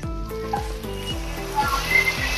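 Boiled potato is added to green chillies frying in a pan, and the pan gives a steady close sizzle with soft rhythmic stirring and scraping throughout.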